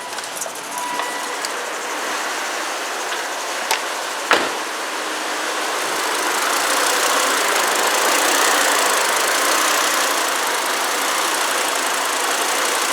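The engine of a 2004 Volvo XC90 2.5T idles with a steady, broad rumble and a faint irregular pulse, growing slightly louder partway through, with no talking.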